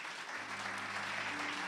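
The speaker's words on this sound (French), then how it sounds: "Est-ce qu'on peut acclamer pour le Seigneur?" A church congregation applauding and cheering for the Lord during a French-language sermon on spiritual combat, a dense, steady wash of clapping that fills the whole moment, with faint voices mixed in.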